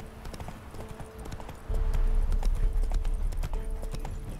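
Geralt's horse Roach gallops in The Witcher 3: Wild Hunt, a rapid, rhythmic clatter of hooves up close that starts lighter and then becomes a heavier, steady pounding over the ground.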